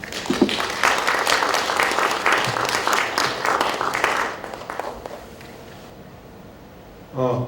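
Loud applause from a crowd at a book launch lecture fills the first few seconds, then fades out into quiet before a Buddhist monk begins speaking near the end.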